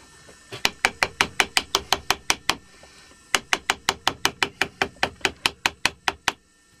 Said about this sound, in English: I'm using Faithful wood chisel,